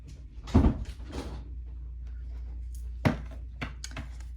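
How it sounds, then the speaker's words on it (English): A door thumps shut nearby with a solid knock, followed by a few lighter clunks and rattles in a quiet room. "Shut my door."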